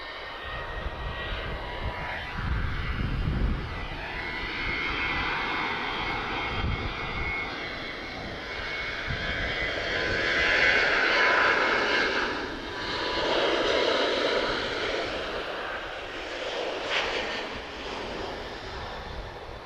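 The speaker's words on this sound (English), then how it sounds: "let's catch this Ryanair. This is going to be our last Ryanair departure of today." A Ryanair airliner departs Lisbon Airport. Its engines make a broad, distant roar that swells and fades across the runway over about twenty seconds, and no one talks over it.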